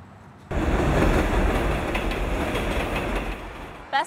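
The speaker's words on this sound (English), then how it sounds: "The number 7 train takes you right to the park." A New York subway number 7 train rumbles in loud and close, a steady heavy roar of wheels and carriages on rails that holds and then tails off into a brief high squeal at the end.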